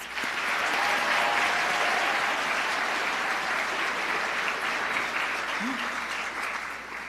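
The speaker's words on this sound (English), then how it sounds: "Let's give them all a round of applause." Audience applause at the Anoka Halloween Royal Ambassador coronation in Anoka, Minnesota, a dense steady crowd clapping that fills the room for about seven seconds before tapering slightly at the end.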